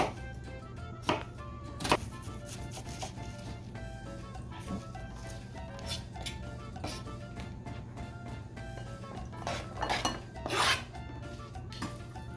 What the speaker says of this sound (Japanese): でこの玉ねぎはもうひたすらみじん切り、 なるべく細かい方がいいかなと思うんですけど